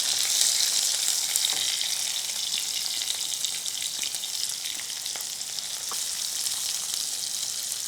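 Small shallots fry in hot oil with mustard seeds and garlic, a continuous bright sizzle with light stirring scrapes and crackles close to the pan, and no voice.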